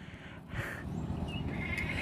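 Goat bleating on an Indonesian farm where a goat was just bought and brought by truck, a few short wavering calls over steady low background noise.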